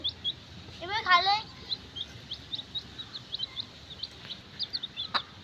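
Baby chickens peep and chirp in quick, high bursts as they eat prepared chick feed, with one louder trilling call early on, while someone speaks briefly over them.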